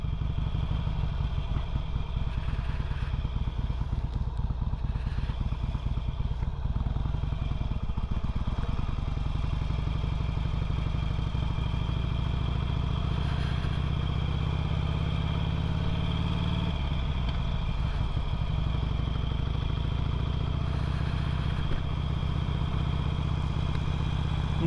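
A 2008 Harley-Davidson Sportster 883L engine hums steadily at cruising speed throughout, loud and close, with a brief dip in revs partway through.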